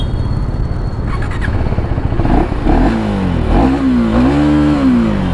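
A KTM 390 Duke single-cylinder motorcycle revs through its exhaust, loud and close, the pitch rising and falling in a few swelling bursts, with some squealing tones over a rumbling low end.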